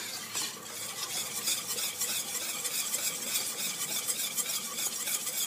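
A spoon stirs pastry cream cooking on a stovetop, scraping steadily and rhythmically against the pot while the cream bubbles and sizzles softly, close and continuous with no talking.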